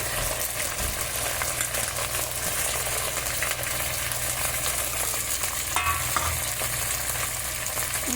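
Onions with curry leaves and green chillies frying steadily in a pan after a pinch of salt, a continuous close sizzle with occasional stirring scrapes throughout.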